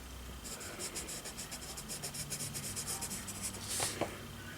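A pencil sketches freehand guitar concept art on paper, quiet rhythmic scratching strokes up close, ending in a brief firmer rub.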